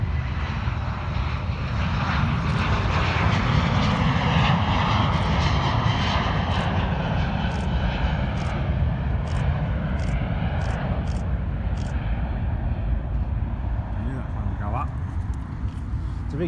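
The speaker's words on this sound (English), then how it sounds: "It's a big plane, that one." A large airplane roars on takeoff, a loud, steady engine rumble that fills the air for a long stretch, with no talk over it.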